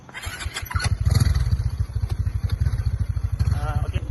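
A motorcycle starts and pulls away on a city street in Kuala Lumpur during New Year celebrations. The engine chugs loud and close in a rapid, steady pulse as it moves off, with voices talking over it.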